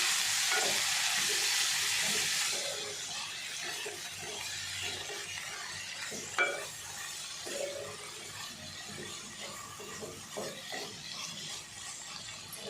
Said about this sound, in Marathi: आता त्याच्यामध्ये आपण चवळी टाकून घेणार आहे। छान मिक्स करून घ्यायची।